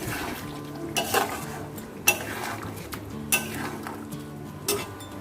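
A metal spoon stirs mutton curry frying in a wok, scraping and clinking against the pan in four or five sharp strikes over a low, steady sizzle nearby.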